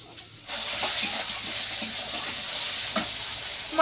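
Meat frying in oil in a pan, with a steady close sizzle and occasional stirring scrapes over it, with no talking.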